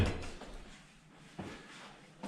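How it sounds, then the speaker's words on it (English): A heavy door with a weighted closer swings shut inside the historic Pajama Factory building in Williamsport, PA, giving a soft thud, a quieter second knock and a final bump, close by and fairly faint. "That's a heavy door"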